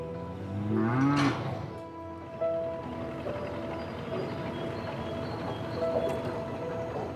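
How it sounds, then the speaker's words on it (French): Cattle carried by boat through the Marais Poitevin marshland, with one loud, drawn-out moo near the start over a constant low engine drone, then fainter calls later. "Des vaches sur un bateau, honnêtement, c'est pas tous les jours qu'on en voit."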